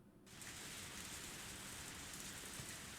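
Steady rainfall from a visual novel game begins abruptly and continues as a dense, even hiss of drops on surfaces, soft and constant with no voices.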